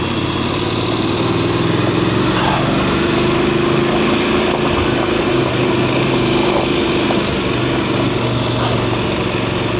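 Voge 900 DSX motorcycle engine held in low gear while climbing a sharp, gravelly mountain trail, giving a steady, loud, continuous drone with little variation and no talk.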